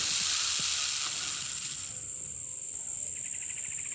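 A canebrake rattlesnake outdoors in South Carolina rattles its tail with a steady, high, dry buzz that runs unbroken throughout. It is fairly faint against quiet background ambience, with no talking.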